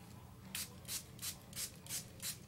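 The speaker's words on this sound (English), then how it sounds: "So I'm just going to spray this." Six quick hissing sprays from a mister, evenly spaced about every third of a second, close and fairly quiet.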